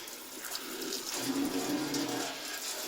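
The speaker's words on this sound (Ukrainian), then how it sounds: "більше додаю від 3 літрів на хвилину приблизно це ось такий поток води" Tap water runs at about three litres per minute through a Livarno digital water meter, a steady close hissing stream with no pauses and no talking.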